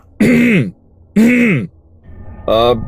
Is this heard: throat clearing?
yes